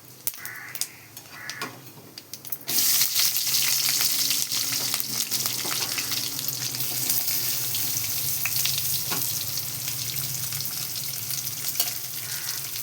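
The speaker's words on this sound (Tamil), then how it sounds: "இப்போ பெருஞ்சீரகம், அடுத்தது வெங்காயத்தை போட்டுக்கணும்." Fennel seeds and onion frying in sesame oil for a prawn curry, a steady close sizzle that jumps louder after a few seconds when the onion goes in and keeps crackling evenly, with faint stirring scrapes.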